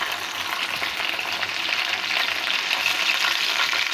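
Chicken pieces fry in a pan for a Bengali-style chicken roast, giving a steady, dense sizzle that holds level throughout with no voices.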